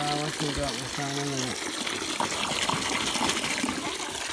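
A hose pours water into a giant water balloon, making a steady, close rushing gush. A person talks over the start of it, and the flow then carries on alone.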